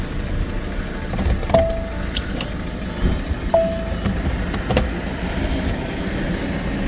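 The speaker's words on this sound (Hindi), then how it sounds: "सब गाड़ी चालू कर लेते हैं हम" An electric car starts up with a couple of short chime beeps and then drives off, giving a steady road and motor hum with occasional clicks, on a winter road trip through the Himalayan mountains.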